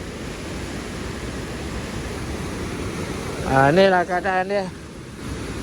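Strong river water rushing after rain, a loud continuous roar close to the microphone; partway through someone speaks briefly over it.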